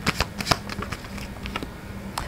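Tarot cards are shuffled by hand in short bursts of crisp riffling and slapping, with a few distinct clicks spread across the brief stretch, close and fairly loud with no talking.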